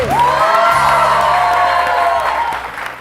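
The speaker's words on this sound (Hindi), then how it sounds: "बहुत सारी तालियां एनजी के लिए।" A studio audience at a televised wedding-special show bursts into applause and cheering for a judge, with loud whooping shouts riding over continuous clapping that fades slightly at the end.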